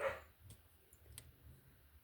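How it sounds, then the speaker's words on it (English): A dog barks a few times in the background, short sharp yaps spread across a couple of seconds, fairly faint and somewhat distant. "I'm sure you can hear my dog barking in the background."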